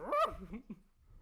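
A small dog gives a short yelping bark followed by a soft whimper, brief and fairly close, with a faint background after.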